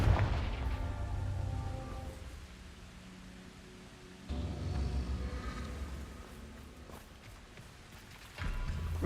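Blasting spell impacts from the video game Hogwarts Legacy, three heavy booming bursts spaced a few seconds apart over a rumbling game background.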